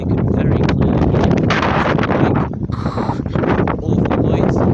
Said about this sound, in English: it's windy, as you can very clearly hear.